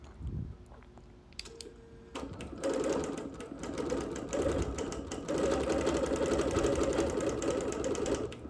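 A sewing machine quilts on wool, starting with a few hesitant stitches, then settling into a steady, rapid mechanical rattle that runs close and moderately loud, with no voices.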